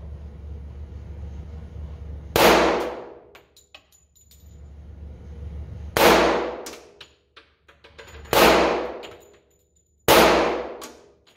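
Four loud, sharp gunshot blasts ring out, including shots from an FK BRNO pistol firing 10mm rounds, each with a long decaying ring and tail, spaced a few seconds apart with quiet gaps between them.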